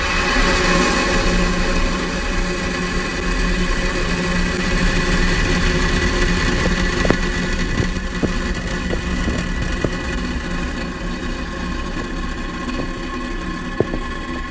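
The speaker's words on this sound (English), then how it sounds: "Ignition and liftoff of Falcon 9." Steady, loud broadband roar of a SpaceX Falcon 9 Block 5 rocket igniting and lifting off on a Starlink mission, a continuous rumbling wall of engine noise with faint crackles, no voices over it.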